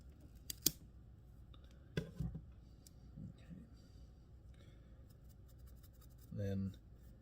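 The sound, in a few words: larger scissors cutting while tying a fly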